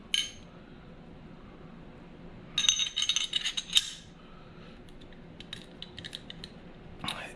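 Metal parts of an IWI Masada 9mm pistol clatter and clink during disassembly, a burst of rattling as the slide, guide rod, spring and barrel come off, then lighter scattered clicks and a final clink.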